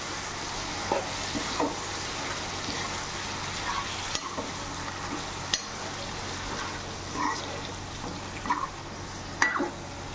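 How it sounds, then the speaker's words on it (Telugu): Mutton dabba fry being stirred in a pan, a soft steady sizzle with occasional spoon scrapes and clinks against the pan, close and fairly quiet. "ఇదంతా ఇలా కలుపుకోవాలి"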